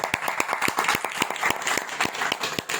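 Applause from a small audience at a Hindi spiritual discourse gathering, sparse and irregular clapping that keeps up steadily for a few seconds at moderate level, with no speech over it.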